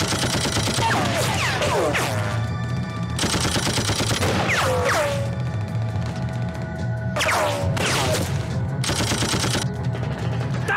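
Bursts of rapid fire from a Japanese soldiers' machine gun rattle in several separate volleys, loud and close, with ricocheting whines and crashing impacts between them, in a dubbed war film battle.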